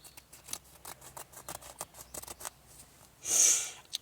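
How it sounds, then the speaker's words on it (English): Scissors snip repeatedly across material in a run of quick, close, irregular cuts, ending with a louder rasping slide of the blades. "So I'll just cut right across the centre here."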